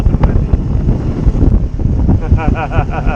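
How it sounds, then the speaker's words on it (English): Strong wind buffets a sailboat on rough water, a loud, continuous roar of gusts mixed with water wash and hull noise, with a few higher cries near the end. "It's getting super rough and windy."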